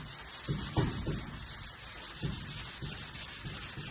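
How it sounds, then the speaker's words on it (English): Short scratchy rubbing strokes of wet sanding a car body panel before paint, irregular and close, a few louder swipes standing out over a steady background hiss. "Wet sanding, you're like, oh no, we're good, we're wet sanding."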